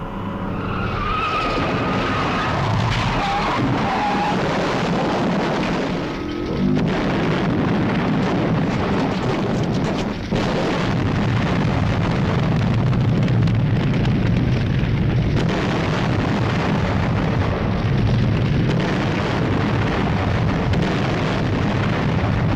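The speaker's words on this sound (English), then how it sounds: "cars collide into a gas station and it causes a gigantic explosion" A loud, sustained roar of cars colliding into a gas station and exploding, with screeching and a heavy rumbling blast that continues without pause.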